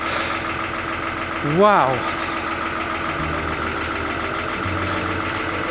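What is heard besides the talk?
Lister engine cold-starting and running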